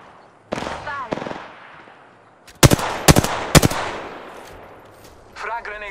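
Gunfire in the Apex Legends video game: a quick burst of three or four loud, close shots in the middle, with fainter distant pops around them and game voices talking before and after.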